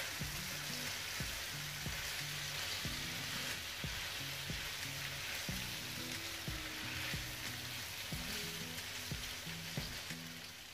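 Crunchy vegetable noodles sizzle and fry loudly in a pan while being stirred and tossed, a steady dense hiss with repeated soft scraping knocks throughout, no voices.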